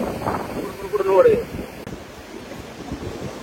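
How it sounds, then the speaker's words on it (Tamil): Sea waves wash onto a sandy beach on Koh Samet island, Thailand, with a swell of surf near the start and wind buffeting the microphone throughout. Voices can be heard nearby. "இப்ப பார்த்தா தண்ணி கடல்ல இருந்து அடிச்சு கொண்டு வருது"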